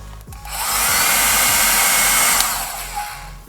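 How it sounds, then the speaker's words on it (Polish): A handheld hair dryer blows steadily and loudly up close for a few seconds, warming a LEGO piece to loosen an old sticker, with a click at start and stop. "go trochę nagrzeję suszarką i wtedy ta naklejka po prostu o wiele łatwiej zejdzie"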